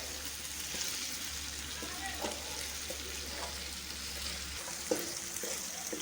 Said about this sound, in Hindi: चिकन को अच्छी तरह से भून लेंगे,